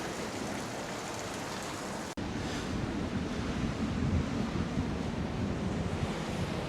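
Choppy sea waves wash steadily at the harbour in Porthcawl, a loud continuous surf roar with gusty wind buffeting the microphone, briefly cut off partway through before resuming.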